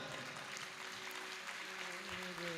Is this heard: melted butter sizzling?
no